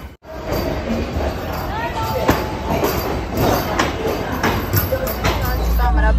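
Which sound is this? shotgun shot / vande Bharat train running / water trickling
vande Bharat train running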